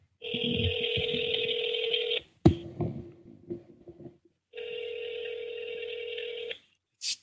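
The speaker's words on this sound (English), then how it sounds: "Still ringing." An outgoing call rings on a telephone: two long electronic ring bursts separated by a pause with some faint clicks and handling noise, heard close and clear.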